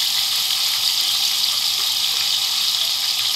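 Garlic hits a hot pan while making green molokhia, giving a steady, even sizzle that holds without a break from start to finish, close and fairly loud.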